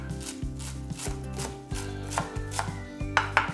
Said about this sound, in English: And then I'm going to mince up the softer leaves.